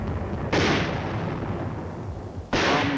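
Heavy 4.2-inch mortar shells bombarding a hill in a continuous barrage, with two loud booming blasts about two seconds apart over a rumbling background roar.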